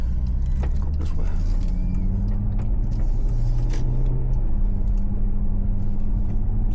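Maserati GranTurismo cruising on the road, its steady low engine rumble and road noise filling the cabin evenly throughout, with faint mid-range whooshing and no sharp events.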